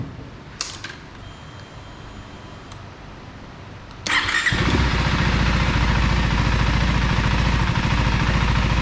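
A 2025 KTM 390 Enduro R motorcycle strapped to a dyno with sniffers in the tailpipe cranks and fires up after a few seconds of quiet shop noise, then settles into a loud, steady, buzzing idle close by.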